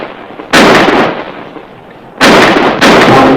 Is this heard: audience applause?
no